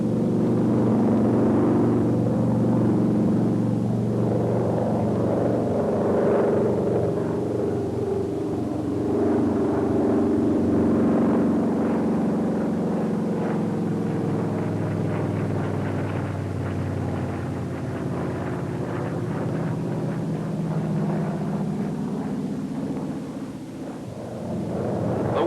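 The engine of an SB2A Buccaneer aircraft drones loud and steady in a chandelle entered at 205 knots, its low rumbling pitch slowly rising and falling through the maneuver, with no one talking.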